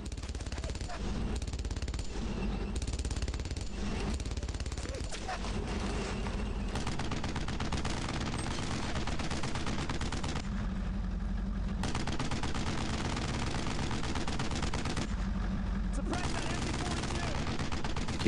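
Machine gun fire in the World War II shooter Brothers in Arms: Road to Hill 30, sustained rapid rattling bursts over constant heavy battle noise, with short pauses and a player talking over it.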